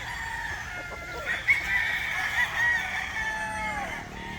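Roosters crow repeatedly at a gamefowl farm raising White Kelso brood and three-year-old birds, with drawn-out calls and clucking overlapping one another at moderate distance, steady through the whole stretch with no talk.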